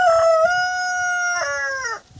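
A rooster at a hillside resort in Garur lets out a single loud, close crow lasting about two seconds, rising and then trailing off, with no other sound around it.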